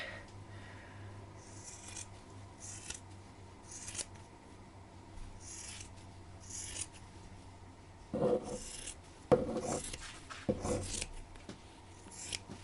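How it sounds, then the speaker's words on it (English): Scissors cutting through the fabric of old clothing across a crotch seam, with quiet rasping snips early on and several louder, closer cuts toward the end, with no talk. "So I'm going to cut off from this crotch seam across"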